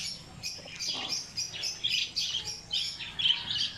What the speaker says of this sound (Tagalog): Ito ang ano, ibon na ni Papir.